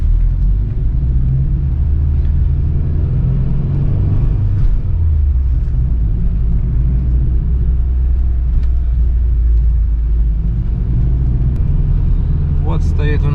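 A car drives through a town in extreme cold, a steady low road rumble lasting throughout, with someone talking over it.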